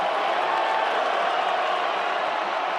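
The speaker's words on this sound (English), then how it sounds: "Crowd's getting into it a little bit." A college football stadium crowd during a USF vs Memphis game roars in a steady, dense wash of cheering and murmur, heard at a distance with no distinct voices standing out.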